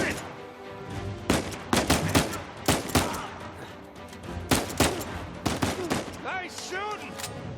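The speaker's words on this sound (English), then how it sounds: "Nice shooting!" Gunfire in the video game Uncharted 4: repeated loud, sharp shot bursts in quick volleys across the scene, with game sounds and a brief voice near the end.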